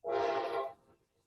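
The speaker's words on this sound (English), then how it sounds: "So it's the train says hello." A single loud, harmonically rich train horn blast that holds for about three quarters of a second, then cuts off with a short fading tail.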